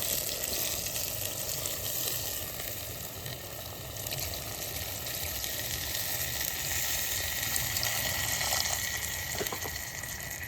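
Water poured into a pan of browned, oily duck meat, with a steady sizzle and gushing hiss filling the whole stretch, fairly even and continuous.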